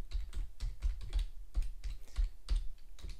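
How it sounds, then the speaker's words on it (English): Keys clack in a quick, steady run of close taps as a domain name is entered on a computer keyboard, with no voices present. "So here you need to type in your domain name."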